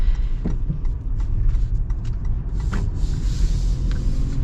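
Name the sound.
Toyota 4Runner 4-liter V6 engine while driving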